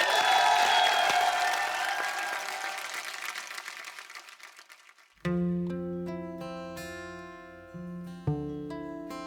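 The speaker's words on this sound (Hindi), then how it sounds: "जोरदार तालियां" TV studio audience applause and cheering on The Kapil Sharma Show fill the first five seconds, fading out before music with a steady beat begins abruptly.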